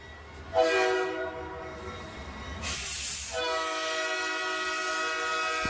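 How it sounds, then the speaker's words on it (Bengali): A train pulling into Bardhaman station sounds its horn in two long, loud blasts over the rolling rumble of the carriages. "লম্বা একটা বাঁশি বাজিয়ে ট্রেন বর্ধমান স্টেশনে এসে ঢুকলো"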